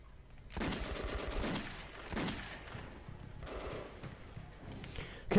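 Game gunfire from Metro 2033 Redux: bursts of loud shots and crackling fire spread across the clip, with a few separate heavy volleys rising above a busy background of game noise.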